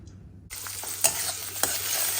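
Semolina halwa sizzling in ghee as it is stirred, starting abruptly after a quiet half second into a bright steady sizzle, with two sharp scraping strokes of the spoon standing out, close and without talk.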